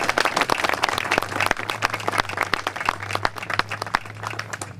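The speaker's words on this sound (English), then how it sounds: "So let's give Harry another round of applause." A crowd gathered at a statue dedication applauds, crisp individual claps from a modest group close by, uneven and lively, with a low steady hum underneath.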